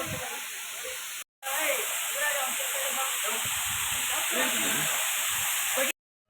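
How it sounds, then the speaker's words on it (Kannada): Hidlumane Falls at Kodachadri pours down from a height in a steady, loud, broadband roar of falling water that runs unbroken apart from one brief cut near the start. "ನೀರು ನೋಡಿ ಎಷ್ಟು ಮೇಲಿಂದ ಧುಮುಕ್ತಾ ಇದೆ."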